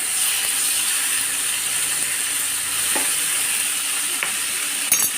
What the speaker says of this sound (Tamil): இது நல்லா வதங்கிட்டு இருக்கும்.